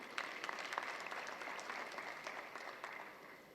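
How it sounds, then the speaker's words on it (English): An audience applauds steadily for an institute at an AI conference session, the clapping dense and even, moderately quiet and heard from within the room, with no voices over it. "A big round of applause for our institute."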